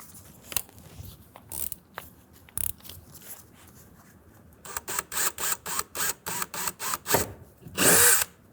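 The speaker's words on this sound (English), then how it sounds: "when I drill into the fender, I won't be using the 1/4 inch, I'll be using an 1/8 inch drill bit" A power drill with an 1/8 inch bit whirs in short bursts drilling into a 2024 Ford F-150 fender, first a few scattered pulses, then a quick run of repeated drilling bursts, close by.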